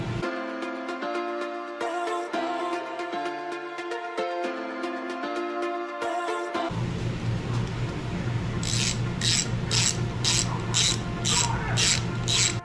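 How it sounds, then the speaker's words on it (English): A ratchet snugs up connecting rod bolts on a Honda K20/K24 engine being built. A tonal hum plays first, then steady close clicking of the pawl, with sharper metallic bursts repeating toward the end. "I use a ratchet to snug up the rod bolts to pull the rod and the cap together before finally torquing them down to 55 foot-pounds"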